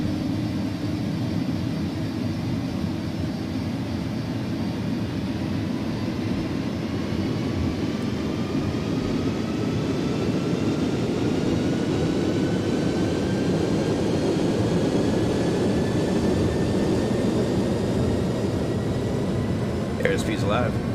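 Jet engines of an iniBuilds A300F freighter in X-Plane 11 roar steadily as they spool up to takeoff thrust, a loud, sustained rumble with rising tones. A voice speaks over it.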